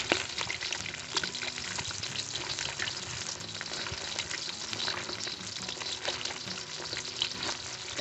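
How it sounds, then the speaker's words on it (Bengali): Pieces of rohu fish fry in oil in a village kitchen, a dense, close crackling sizzle with rapid pops and spits that continues without a break; no one speaks. "এত সুন্দর ভাজা হচ্ছে, মনে হচ্ছে মাছগুলো ভাজাই খেয়ে নি।"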